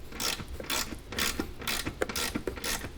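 A socket ratchet backs out a 13 mm bolt inside a 2021-2024 Ford Bronco, making quiet, close, rhythmic clicking strokes repeated about six times.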